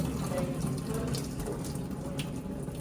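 Water runs steadily from a kitchen tap while rice is rinsed, a continuous splashing hiss at close range with no voices.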